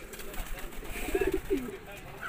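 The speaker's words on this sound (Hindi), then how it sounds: "ये देखिए, ये सारे कबूतर मैं आपको एक एक करके दिखा रहा हूँ" Pigeons coo softly and repeatedly at close range, a few low throaty calls in quick succession, under a light background hum and faint voices.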